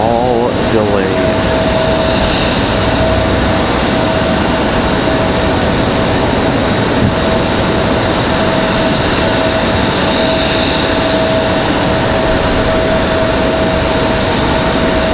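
A CRJ jet idles and taxis near an airport gate, its engines producing a loud, steady roar and whine that fills the whole stretch without letting up, at close range.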